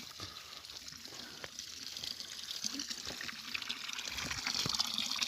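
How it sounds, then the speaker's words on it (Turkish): Cold water runs steadily from an outdoor spring fountain at a highland picnic spot in Bolu, a continuous close trickle and splash that grows slightly louder toward the end. "Çeşme güzel akıyor. Buz gibidir şimdi o su."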